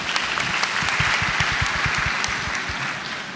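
An audience claps steadily in a dense, sustained round of applause, with individual claps audible through the crowd at an even loudness across the whole few seconds.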